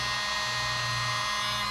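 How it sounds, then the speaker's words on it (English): Leaf blower running steadily as it blows air across inked paper, a continuous whirring motor drone with an airy hiss, close and unbroken throughout. "Now I'm coming back in with the leaf blower."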